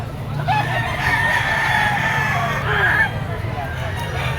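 A two-year-old yellow-legged Sweater Kelso gamecock rooster crows in one long, drawn-out call, close and loud, with a softer second call near the end over a low crowd hum and background voices.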